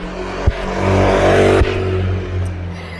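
A motorcycle passes on a street in Fulham, making a loud, close engine roar that rises and holds steady, with a couple of sharp thumps on the microphone and no voices.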